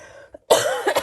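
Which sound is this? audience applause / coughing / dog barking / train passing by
coughing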